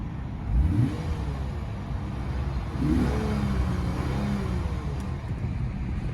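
A 2020 Lexus IS 350 F-Sport engine hums steadily nearby, heard through an open window, its pitch rising and falling in a couple of brief revs.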